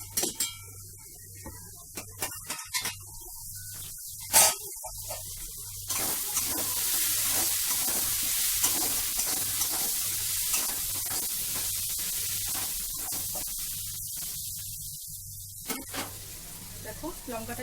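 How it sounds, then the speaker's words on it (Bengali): Chili frying in hot oil in a home kitchen, a steady hissing sizzle that swells in the middle and is bracketed by sharp clatters of utensils, with brief gaps of quiet. "দেখো লঙ্কাটা একটু ভাজা হয়ে গিয়েছে"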